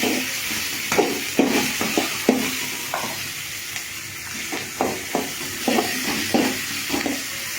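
Onions sauté in oil with mustard seeds and chana dal, a constant hiss of frying broken by repeated sharp spatula scrapes and taps against the pan, close and fairly loud.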